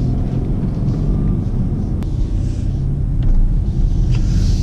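A BMW with a 2-liter 4-cylinder B46 turbo engine on the move gives a steady low rumble of engine and road noise heard from inside the cabin, constant and fairly loud, with no speech.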